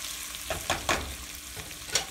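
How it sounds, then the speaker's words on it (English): Butter is stirred into penne pasta in a pan, with a gentle sizzle and a few quick scraping strokes of the spoon, close and brief. "stir the butter into the pasta, really blending this together now"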